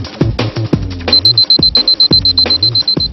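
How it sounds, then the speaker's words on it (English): A wristwatch alarm beeps in rapid, evenly spaced high electronic pulses as it is whirled around someone's head, heard close and loud, with a few mechanical clicks and knocks just before the beeping starts. "I'll turn on the watch's alarm"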